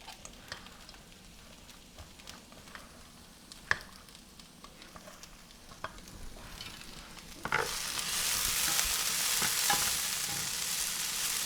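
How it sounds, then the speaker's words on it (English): Potatoes in a pan are stirred with scattered scraping taps at first, then a loud, steady frying sizzle swells up and continues close and clear without talk. "Make sure you continue to stir your potatoes."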